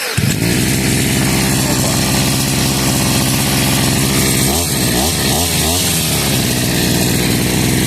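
A Vitals BK 4123AVs petrol brush cutter runs close and loud with a steady two-stroke drone that dips and surges briefly near the end, with no talking over it.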